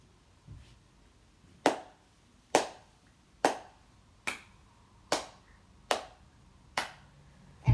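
Eight slow, evenly spaced hand claps ring out alone and fairly close, with a brief soft tap before them, performed as the slow clap dance emote from Fortnite.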